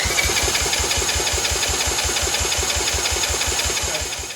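A Yamaha 225DX Tri-Moto three-wheeler engine is cranked over for a compression test, giving a steady, fast, even chugging pulse that stays loud throughout and eases slightly toward the end, with no voices.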